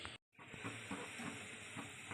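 Masoor dal bori fritters fry in hot oil, giving a steady, even sizzling hiss broken by one short gap of silence near the start, with faint bubbling beneath.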